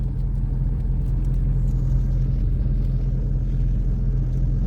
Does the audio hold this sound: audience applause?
no